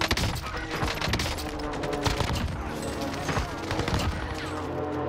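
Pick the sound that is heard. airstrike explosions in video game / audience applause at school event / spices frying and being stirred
airstrike explosions in video game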